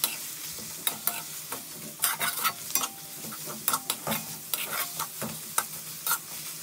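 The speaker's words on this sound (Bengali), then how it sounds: "এবার আমি দিয়ে দেব আদা রসুন বাটা, সাথে টমেটোও দিয়ে দেব। তো সব কিছু এখন ভালো করে আমি কষে নেব।" Ginger garlic paste and tomato stir-fry in a hot pan, with a soft sizzle beneath repeated sharp scrapes and taps of a spatula in an irregular rhythm, close and without speech.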